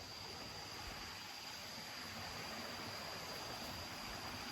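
A stream flows through tropical rainforest, a faint, steady wash of running water with no other sounds.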